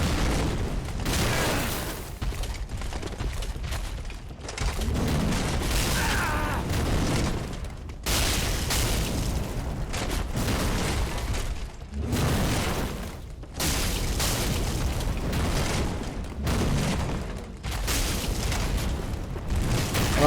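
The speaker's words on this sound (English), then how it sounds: "what we can do is a plunging attack" Plunging attack in Dark Souls 3 on the High Wall of Lothric, a series of loud booming impacts and crashes with heavy game sound broken by short silences, no speech.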